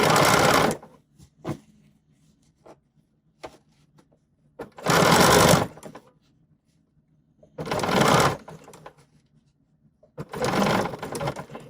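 A BERNINA sewing machine fitted with edgestitch foot #10 sews a seam in four loud, close bursts of fast whirring stitching, separated by quiet gaps with light handling clicks.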